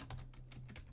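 Several quick keystrokes on a computer keyboard, faint and close, with soft evenly spaced clicks lasting under a second.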